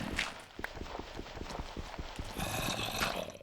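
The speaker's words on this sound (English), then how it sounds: "I hear zombie footsteps." Footsteps of a zombie in the Minecraft game, a steady series of soft rhythmic steps heard nearby among other game noises, with no talking.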